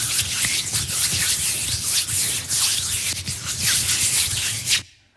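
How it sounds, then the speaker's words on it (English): Close, continuous dry rubbing of hands together, a rough swishing friction with brisk back-and-forth rhythm that stops abruptly at the end. "Just somebody rubbing their hands together"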